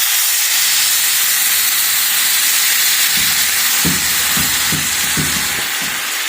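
Water is poured into vermicelli frying in a pan, setting off a loud, continuous steam hiss and sizzle, followed by a few soft rhythmic knocks late on.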